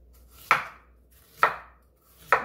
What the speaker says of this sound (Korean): 이렇게 듬성듬성 썰어주세요